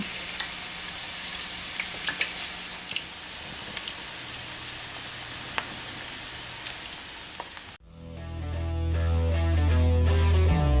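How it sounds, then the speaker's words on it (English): Spiral-cut potato deep frying in hot grease gives a steady, dense sizzle for most of the clip, then music cuts in loudly near the end. "we're going to take our potato and we're going to stick it right here in this hot grease"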